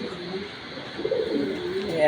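Racer pigeons at a loft give low, soft cooing calls, a rolling throaty murmur that swells slightly toward the end and sounds close.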